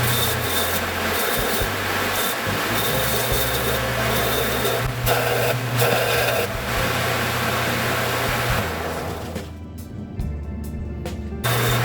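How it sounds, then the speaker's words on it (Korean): Coarse 40-grit sandpaper rubs back and forth across a workpiece in a workshop, a continuous close scratchy rasp over a steady machine hum, easing off near the end. "여기 이면을 가급적 일자로 만들어야 되는데 지금 사포는 40방 굉장히 거친 거죠"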